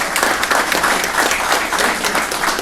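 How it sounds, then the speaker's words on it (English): Members at a Teamsters Local 707 union meeting applaud veterans with a short, loud burst of hand clapping from a crowded room, lasting under three seconds. "Round of applause for our veterans."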